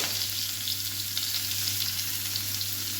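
Stuffed bitter gourd (karela) with curry leaves sizzles in a hot pan, a steady, dense frying hiss that runs unbroken throughout with no voices.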